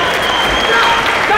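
A crowd at a Karate Combat championship bout roars steadily, a dense, continuous cheer with a commentator's voice talking over it.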